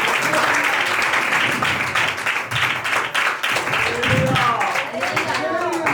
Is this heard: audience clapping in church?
yes